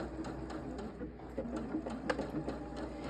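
Sewing machine running a decoration stitch, a close, quiet, steady mechanical whir with rapid regular needle clicks ticking several times a second, no talking.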